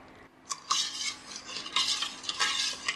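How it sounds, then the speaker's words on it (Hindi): A metal spoon scrapes and clinks around a pan while milk, sugar and cream are stirred in hot ghee for rasmalai, with irregular bright scraping strokes close up and no talking. "मिल्क ऐड करने के बाद चीनी ऐड करेंगे, मिक्स कर लेंगे ज़रा।"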